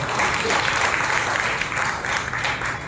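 A congregation at a Sunday worship service in a church in Nellore claps loudly and steadily together, a dense, continuous burst of applause filling the room.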